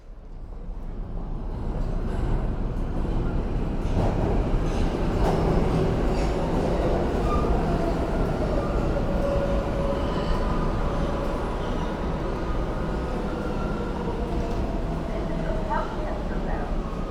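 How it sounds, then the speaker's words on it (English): A New York MTA subway train rumbles steadily on the rails, a loud continuous roar with screeching wheel tones rising and falling, heard close up for the whole stretch without talk. "I'm obsessed with the sound of the New York MTA."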